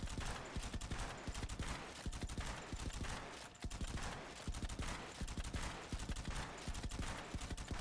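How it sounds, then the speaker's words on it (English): Rapid machine-gun fire rattles in the video game Persona 5X, dense continuous bursts of shots that are loud and steady, broken by one short pause midway. "Like machine gun over here."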